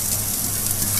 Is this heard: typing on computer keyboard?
no